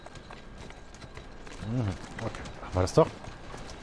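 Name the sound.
horse hooves clip-clopping in video game Assassin's Creed Syndicate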